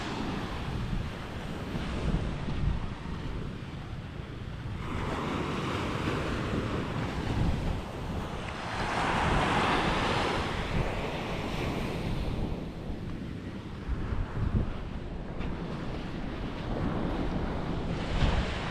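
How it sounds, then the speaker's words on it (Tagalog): Sea waves wash onto the shore with steady wind buffeting the microphone, swelling in loud surges around the middle and again near the end, with no voices. "Buti na hindi na gaano maalon."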